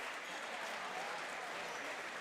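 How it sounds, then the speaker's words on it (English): Basketball crowd in a high school gym applauding departing senior players at a home game, a continuous, even patter of clapping heard at a distance and fairly faint. "they get a round of applause as seniors"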